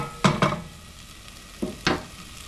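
Spinach being stirred and wilted in a hot pan: two pairs of quick scraping stirs over a soft background sizzle, close and fairly loud.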